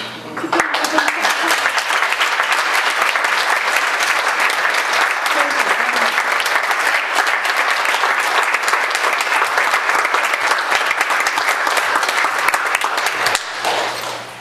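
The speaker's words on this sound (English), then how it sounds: "I'd like you to applaud all of them" A crowd claps steadily and loudly for over ten seconds, the applause holding even before stopping near the end.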